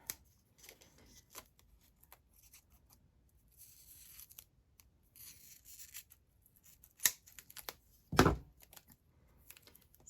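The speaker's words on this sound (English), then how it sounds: "there's the beauty of my Spellinders scissors. They easily cut through the foam tape" Spellbinders scissors snip through foam tape at close range, making a series of sharp, dry clicks and crisp cuts with quiet gaps between them and one louder final snip.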